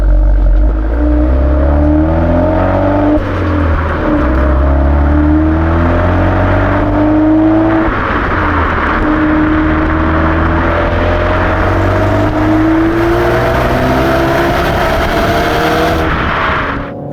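A Renault Sport Megane 280 Cup's turbocharged engine pulls hard through the gears, its loud rising whine climbing, dropping at each shift and climbing again, heard from inside the car.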